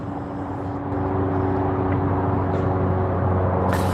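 An airplane passing overhead sounds as a steady low drone and rumble with a constant hum, growing slightly louder partway through, close and continuous, with a few faint clicks over it.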